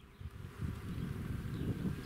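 Buckfast honeybees hum steadily at an apiary hive, a faint, continuous low buzzing with no talk over it.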